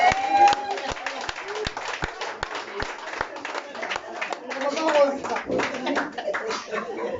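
A church congregation claps and acclaims, with sharp rhythmic hand claps over a lively crowd of voices calling out and singing together.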